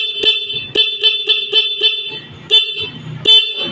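The stock horn of a Suzuki Rider motorcycle beeps repeatedly, loud and close, in a rapid string of short toots followed by two separate honks.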